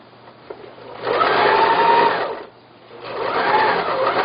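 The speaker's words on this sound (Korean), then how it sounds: "한실방석 사각 코너 부분을 박음질 하겠습니다" An electric sewing machine stitches the square corner of a Korean-style floor cushion close up, running in two steady bursts separated by a short pause.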